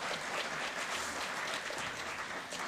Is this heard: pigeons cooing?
no